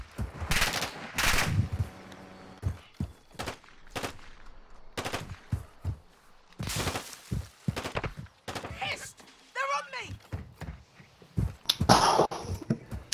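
Repeated bursts of gunfire in Modern Warfare II, sharp loud shots and short volleys spaced irregularly across the stretch, with quieter gaps between.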